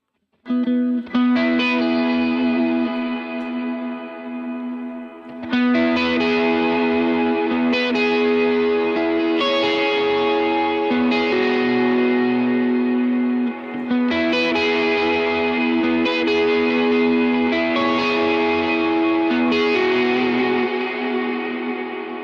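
Electric guitar chords ring out with a shimmering, watery chorus effect and some reverb, played steadily in strummed phrases with brief pauses between sections.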